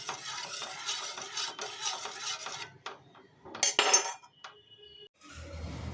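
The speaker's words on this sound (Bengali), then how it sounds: "এবং এটাকে ভালো করে আমি নাড়িয়ে দেবো এবং ভালো করে সমস্ত উপাদানগুলোকে আমি মিশিয়ে দেবো।" Stirring and mixing a liquid fertiliser solution for hibiscus and other flowering plants, with a close, busy run of clinks and scraping swirls, a sharper splashy burst midway and quieter stirring toward the end.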